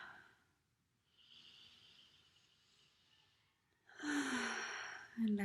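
A slow, deep breath drawn in during a guided meditation, a soft airy inhale that rises and holds, then a louder exhale or voiced sound at the end.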